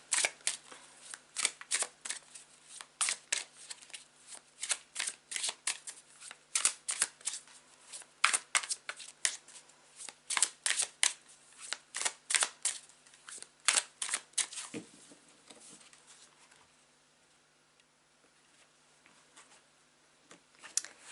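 A tarot card deck is shuffled by hand in quick, crisp riffling bursts that repeat in an irregular rhythm, close and fairly quiet, before tapering off into near silence.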